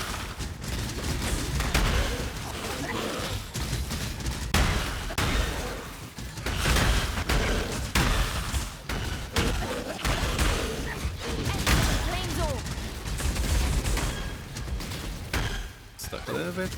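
Profane bloom explosions from a video game, a dense barrage of loud, overlapping bursts and blasts that keep going nearly throughout, with a voice talking over them.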